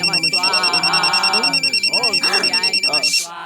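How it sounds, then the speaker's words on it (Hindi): A loud, close phone ringtone plays a sung 'Om Namah Shivaya' devotional melody over a rapidly pulsing electronic beep, ringing continuously before cutting off. "क्या बार बार रिंगटोन बदलता रहता है?"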